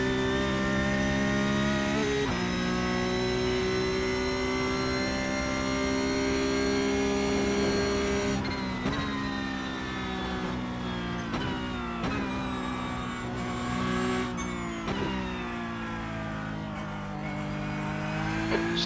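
A Porsche Cup car's high-revving engine whines steadily, shifting pitch as gears change, with the drone of other cars around it on the Nürburgring during a 24-hour race.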